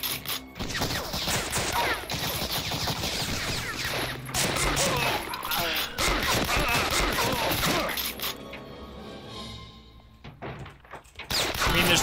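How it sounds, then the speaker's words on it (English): Gunfire in the Wolfenstein: Blade of Agony Doom mod game: dense, loud overlapping shots and thuds for about eight seconds, then thinning to scattered bangs and a final loud report. "Gun's blazing."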